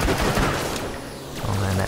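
Rapid automatic gunfire from a weapon in the shooter game Borderlands: The Pre-Sequel, a dense burst of close shots with faint voices underneath.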